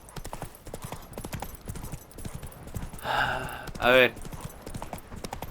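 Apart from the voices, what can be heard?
horse Roach galloping, clip-clop hooves in video game The Witcher 3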